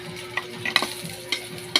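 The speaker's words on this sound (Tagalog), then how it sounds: "igigisa ko na po yung" Garlic sautéed in the leftover oil from frying fish, a soft sizzle punctuated by a few sharp clinks and scrapes of a utensil against the pan, close and brief, with no talking.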